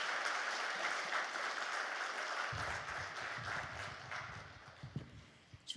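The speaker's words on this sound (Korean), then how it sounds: "뜨거운 박수로 하나님께 영광 돌리겠습니다." Church congregation at a prayer retreat service claps together, a soft, distant wash of applause that continues steadily, with some low thumps and shuffling creeping in partway through.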